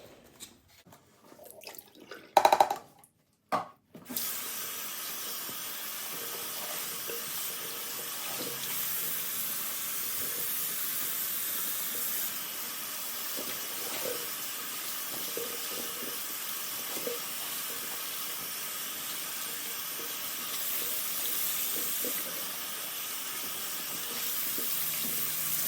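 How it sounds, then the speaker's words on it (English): Tap water runs steadily into a sink while dyed cross stitch fabric is rinsed, a continuous close hiss after a few brief clunks and splashes at the start. "I'm gonna dump it into the sink, rinse it out, wring it out as best I can until the water runs clear"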